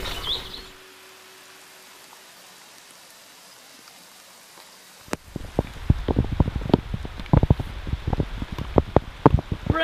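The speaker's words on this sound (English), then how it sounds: "Rain! First rain in 7 weeks." After a quiet, hushed stretch, rain begins falling in a forest garden, breaking into dense, irregular patters of drops on leaves and surfaces that grow louder and closer toward the end.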